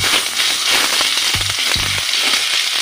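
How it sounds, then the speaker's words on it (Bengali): Garlic paste fries in hot oil with whole cardamom, cloves and a bay leaf while Bengali-style doi katla is cooked at home. A steady loud sizzle runs throughout, with a few sharp spoon scrapes and knocks against the pan. "প্রথম আমি দিয়ে নেব রসুন বাটা"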